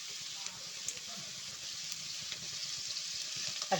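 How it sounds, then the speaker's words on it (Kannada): Onions sizzle steadily in hot oil in a pan while cooking beetroot poriyal, a constant close frying hiss with faint stirring ticks underneath. "ಈಗ ಫ್ರೈ ಮಾಡ್ಕೊಳ್ಳೋಣ. ಈರುಳ್ಳಿ ಸ್ವಲ್ಪ ಕೆಂಬಣ್ಣಗೆ ಬಂದಿದೆ."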